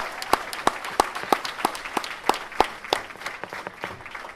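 Audience applause at a Newark honors event for top high school seniors, a modest crowd clapping with several loud distinct claps standing out over a softer continuous patter.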